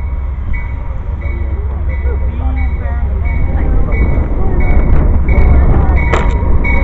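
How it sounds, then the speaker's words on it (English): An Amtrak passenger train pulls in, its deep rumble and rolling wheel noise swelling steadily louder with short clanks and a sharp metallic accent near the end. "Here comes our Amtrak train in."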